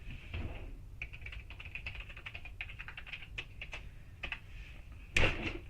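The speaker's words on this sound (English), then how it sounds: "I must be typing something wrong." Close, rapid clicking of fingers typing on a computer keyboard, irregular bursts of keystrokes over a steady low room hum, ending in a louder clatter.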